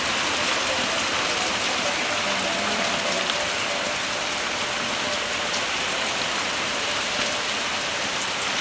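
A heavy downpour pelts nearby surfaces in a loud, constant hiss of dense drops, steady for several seconds without any talking.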